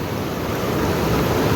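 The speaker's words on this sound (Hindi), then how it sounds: "देखो ऐसे नदी है, नदी का लेवल देख रहे हो आप" A river running high in flood in the hills rushes past as a steady, loud, broadband roar, close and unbroken, with no voices over it.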